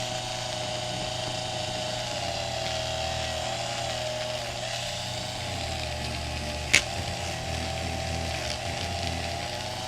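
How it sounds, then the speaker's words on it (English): A drill spins a bristle brush bit at low speed against a 2002 Honda Odyssey automatic transmission case, giving a steady, even whir throughout with one sharp brief click near the end. "Make sure you use low RPM, because if it's too fast, all these bristles on the bit will just fly off"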